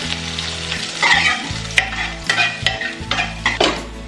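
Garlic and green chilies fry in hot oil with mustard seeds and cumin for dal tadka, sizzling loudly while a spoon stirs and scrapes the pan in short bursts.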